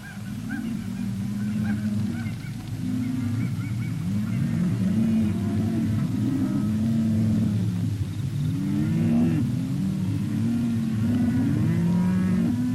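A herd of Hereford cattle lowing over and over, overlapping moos in a steady chorus from several animals, fairly close and continuous throughout.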